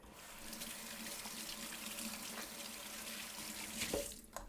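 Water from a kitchen faucet running into a sink while hands are washed, a close, steady splashing hiss that stops abruptly just before the end.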